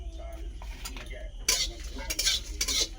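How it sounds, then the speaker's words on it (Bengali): Dried red chillies, bay leaves, cardamom, cinnamon, cloves, cumin and fennel seeds frying in a pan, stirred with a spoon: repeated scraping strokes over a light sizzle, close and moderately loud. "প্রথমে দিয়ে দিচ্ছি শুকনো লঙ্কা, তেজপাতা, গোটা গরম মশলা নিয়েছি, এলাচ, দারুচিনি, লবঙ্গ দিয়ে দিচ্ছি, গোটা জিরে, পানমৌরি, সবগুলো ভালোভাবে ভেজে নেব।"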